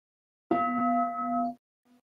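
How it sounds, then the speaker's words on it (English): A meditation bell is rung once during a Zen Buddhist seminar, giving a clear metallic strike that hums steadily for about a second before fading, followed by a faint trailing resonance in a quiet room. "May I invite a bell for us to breathe?"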